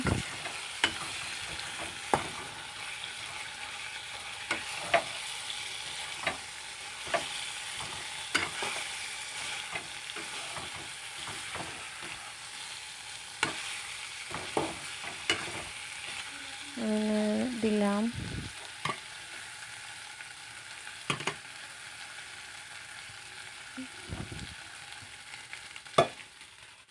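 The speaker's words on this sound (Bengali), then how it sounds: "এবার ডাকনা খুলে দেখি আর একবার নেড়ে দেবো" Kakrol (spiny gourd) frying in a covered pan over low heat, stirred with a steady soft sizzle and repeated sharp scrapes and clicks of the spoon; a voice speaks briefly near the end.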